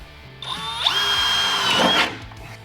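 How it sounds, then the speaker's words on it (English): A power drill punches holes through a muscle car's floor pan in a shop, whining loudly as it spins up and bites into the sheet metal for about two seconds before winding down. "What I'm gonna do is get a drill, punch some holes up through"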